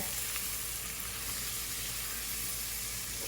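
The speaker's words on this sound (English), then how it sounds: "So we're just going to give that a stir. Let them kind of toast a little bit." Peppers and paprika sizzle as they toast in a hot pan, a continuous bright frying hiss with faint scrapes from stirring and no talking.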